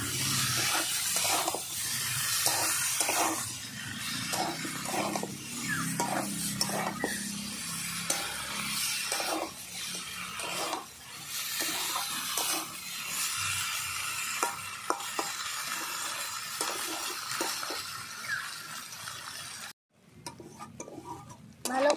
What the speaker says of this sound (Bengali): ভালো করে আমি কষিয়ে নেবো একই সঙ্গে সব